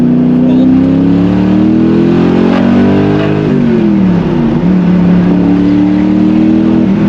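Noble M600 engine pulling hard in second gear, a loud close rising drone with an upshift-like dip midway before climbing again, heard from inside the car.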